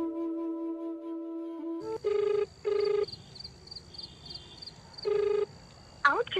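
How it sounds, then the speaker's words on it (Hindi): A phone rings out unanswered: a tone, then several repeated electronic ringback bursts separated by pauses, with a short voice-like sound at the end. "कॉल कर रहे हैं, वह उत्तर नहीं दे रहा है।"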